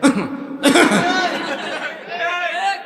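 A voice imitates a cough with a sharp burst, then breaks into animated talk and laughter-like chatter right up close, on stage at a religious gathering, parodying a committee president coughing during an imam's sermon.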